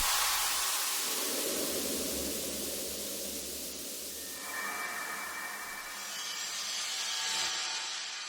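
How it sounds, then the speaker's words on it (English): A broad wash of synthesized white noise with heavy reverb, made in FL Studio for techno, that swells and shifts in tone, trailing into a long reverberant tail with faint whistling overtones. "add some effects and of course white noise with lots of reverb"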